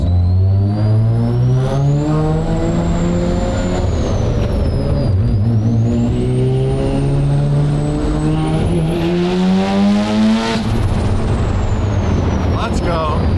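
A special Porsche on the road, engine note climbing steadily through the gears with rising then dropping pitch as it accelerates hard, loud and up close, with people talking in the cabin.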